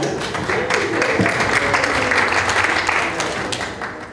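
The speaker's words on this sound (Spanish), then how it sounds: "Un aplauso para el padre Guillermo" A crowd at the launch of a Compartir 2019 church campaign claps for Father Guillermo: dense, steady applause that fills the room from start to finish, with a faint voice briefly underneath.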